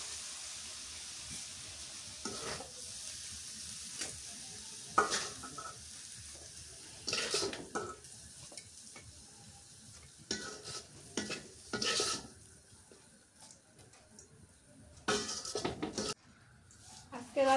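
Shredded cabbage is stir-fried in a village kitchen wok, with a steady soft sizzle broken by scraping and stirring clatter from a spatula, while a person talks at times.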